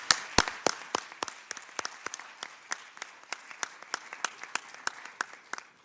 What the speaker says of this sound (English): I think we must applaud the women.